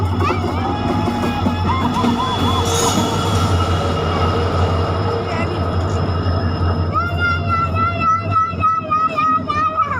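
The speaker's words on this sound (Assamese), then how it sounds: "ট্ৰেইনৰ আৱাজটো শুনিছেই নহয়" A train rumbles into Bokajan station in Assam with heavy low-end roar, metallic wheel squeals rising and falling, and high-pitched screeches intensifying as it slows.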